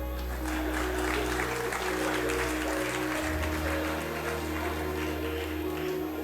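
Applause in parliament during South Africa's 2017 budget speech, a steady wash of clapping from many hands across the chamber, with a low hum underneath and no speech over it.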